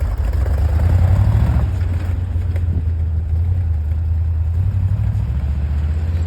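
A Toyota Land Cruiser fresh from a tune-up pulls away on a test drive, its engine droning steadily with a couple of gentle revs as it moves off, fairly close and heard without any talking.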